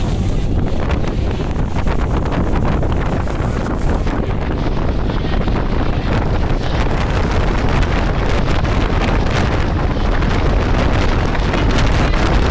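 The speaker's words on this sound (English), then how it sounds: "it's getting really windy" Strong wind buffets the open deck of an Auckland ferry, producing a loud, continuous roar of gusting noise with no voices.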